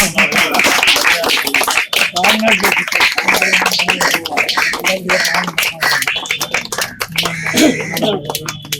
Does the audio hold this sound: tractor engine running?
no